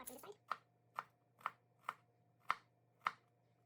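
Knife chopping garlic cloves on a cutting board for a home-cooked coconut chicken curry, six sharp, evenly spaced chops about half a second apart, close and clear over a low steady hum.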